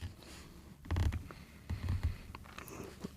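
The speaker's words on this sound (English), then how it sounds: "Can you hear that creaking?" Soft creaking noises come in a few low bursts, like old wood or a chair shifting under weight, with quiet rustling between them.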